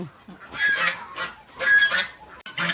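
Geese in a poultry area honk loudly and close by in three repeated bursts with short pauses between.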